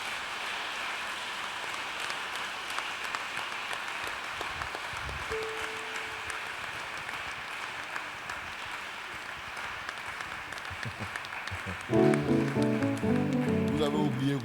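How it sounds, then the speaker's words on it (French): A church congregation at a Good Friday prayer service applauds steadily. The clapping is moderate and distant at first, then rises into louder, more rhythmic clapping near the end, with some voices mixed in. "Est-ce qu'on peut l'acclamer?"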